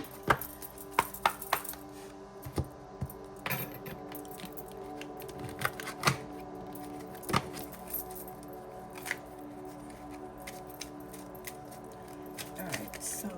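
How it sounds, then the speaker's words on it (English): Crisp clicks and soft riffling taps of playing cards being shuffled by hand, irregular bursts over a faint background hum. "Alright, so I have shuffled the cards."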